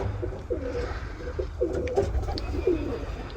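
Pigeons coo in a backyard cage where young chicks are kept, a series of soft, low, rolling calls repeating steadily at close range with no talk over them.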